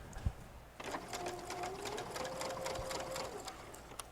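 A domestic sewing machine stitches a quarter-inch seam on pinned quilt blocks for a wall hanging, a steady mechanical whir running for about three seconds after a brief click, fairly quiet and close, with no talk over it.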